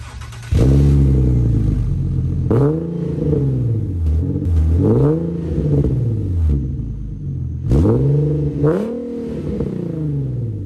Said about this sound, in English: As I was doing a couple of revs with the 2 1/4 inch test pipes.